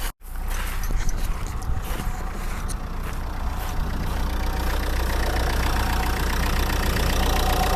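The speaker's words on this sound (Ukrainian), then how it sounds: "Так, запустили двигун, зараз підемо послухаємо." A Skoda Octavia 1.8 engine starts and settles into a steady, close idle with a constant low rumble and faint ticking.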